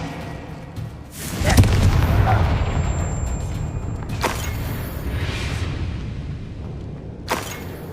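The Confringo fire-blast spell bursts in Hogwarts Legacy combat, with several loud explosive booms spaced across a sustained rumbling battle din.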